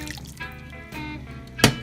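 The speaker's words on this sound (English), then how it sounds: "I'm going to add the cup of pasta water, and this will make the sauce" A cup of pasta water poured into a pan of garlic sizzling in olive oil for an aglio olio anchovy sauce, a quiet liquid splash and bubbling with a sharp burst of sizzle near the end.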